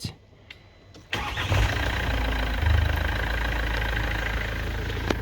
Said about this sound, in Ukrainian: Моторчик шелестить приємно.